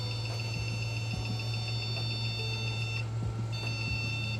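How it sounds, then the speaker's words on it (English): Modded PlayStation 2 console giving off a steady, faint high-pitched electronic beep that pauses briefly and resumes, over a constant low hum and soft handling clicks. "Yeah, that's a strange beep. Quiet beep sound."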